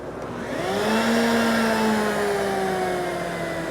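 A wood router in a coping sled spins up to a loud, steady high whine that holds as it cuts, a continuous close motor drone with no talk.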